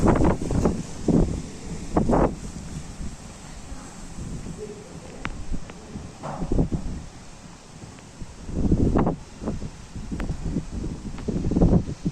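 Strong wind during a 2022 hailstorm in Kunów comes in uneven, loud gusts that buffet the microphone, with rustling between bursts.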